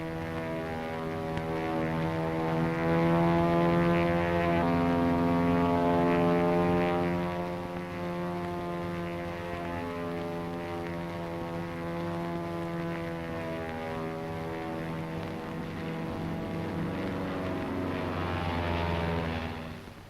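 A P-40 propeller fighter plane drones steadily overhead in an old wartime film scene, its engine a loud, sustained harmonic roar that swells slightly and then holds for about twenty seconds with no voices.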